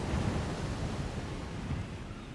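Sea waves wash onto a fine sandy beach on the Normandy coast, a continuous rushing surf with gentle swells, mixed with wind noise on the microphone.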